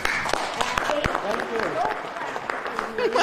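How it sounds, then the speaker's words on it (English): A crowd at a political town-hall style gathering breaks into applause, a dense continuous patter of clapping under overlapping voices and speech. "Don't clap for me."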